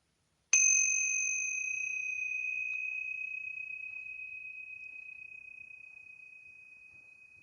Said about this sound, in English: I'm just going to go ahead and ring the tingsha bells to clear out any lower energies